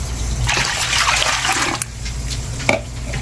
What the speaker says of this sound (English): So now I'm going to put 4 cups of vinegar.